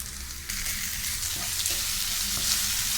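Onions frying in a pan for vaalicha bhirda, a Maharashtrian bean dish, giving a steady close sizzle with light stirring throughout and no talk.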